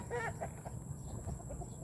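Chickens cluck softly nearby over a steady hum of outdoor background noise, with a few short calls in the first half.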